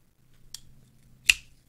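An MBK Large Old Guard inset lock knife with micarta scales is reverse-flicked open: a faint soft click, then one sharp, crisp snap as the blade locks, close and alone.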